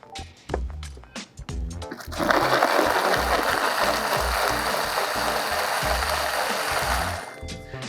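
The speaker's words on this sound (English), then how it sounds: "We're gonna add in the blender, and we're gonna blend it up." A kitchen blender whirs loudly and steadily through a honey smoothie for about six seconds, starting after a couple of seconds of clatter and clinking as the jug is set up, then cutting off near the end.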